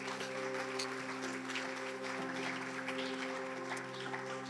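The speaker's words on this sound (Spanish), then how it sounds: "dale un aplauso a Jesús" Church congregation applauding at the close of a worship service, steady broadband clapping over sustained music tones, continuous and moderately distant for the whole stretch.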